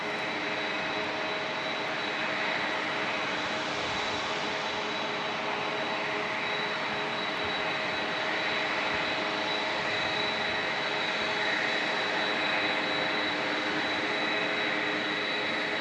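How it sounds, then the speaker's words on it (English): A DHL Boeing 767 jet flies near San Diego International Airport, producing a loud, steady engine roar with a sustained whine that fills the scene without a break. "I hear a 767, and I hear it's a DHL"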